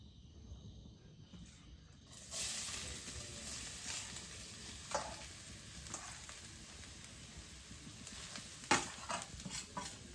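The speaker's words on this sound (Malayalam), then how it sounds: "ഞാൻ കുറച്ച് നെയ്യൂടെ ഒഴിച്ചു കൊടുത്തു. നമുക്ക് ഈ തേങ്ങ കൂടി ഒന്ന് പറ്റിച്ചെടുക്കാം." Grated coconut stirred in ghee while cooking aval (beaten rice): after a quiet start, a steady close sizzle sets in, with scraping stirs and soft crackles breaking through at intervals.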